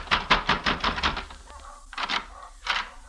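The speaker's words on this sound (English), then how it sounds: "I took the steps up 2 flights and slammed at McQuill's door" Fist pounding on a hotel room door in a 1949 radio drama: a rapid series of firm knocks, then a pause and two more heavy raps, close and fairly loud.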